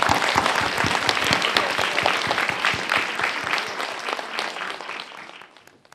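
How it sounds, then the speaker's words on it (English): An audience at a formal science gathering applauds to welcome a professor to the stage, a dense, steady wash of many hands clapping close and loud, slowly tapering off at the end. "Let's give a warm applause to welcome Professor Gan."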